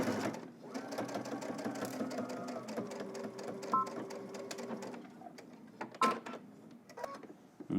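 A sewing machine runs steadily at close range, whirring as it stitches a sweatpants seam, then pauses and restarts with short bursts and clicks.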